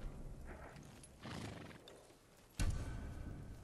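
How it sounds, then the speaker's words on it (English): A horse snorts and whinnies amid soft hoof clops in Ghost of Tsushima, ending with a sharp louder burst; no talking. "They're samurai horses."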